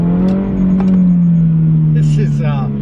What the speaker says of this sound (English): The exhaust is not over the top loud, which is a huge win.